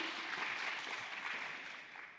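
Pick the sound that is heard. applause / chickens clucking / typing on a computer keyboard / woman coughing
applause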